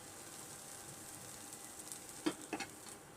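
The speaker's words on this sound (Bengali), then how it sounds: "কাঁচামরিচটা প্রথমে একটু ভেজে নেব।" Green chilies dry-frying in a pan without oil give a faint, steady sizzling hiss, broken by a couple of sharp little pops near the end.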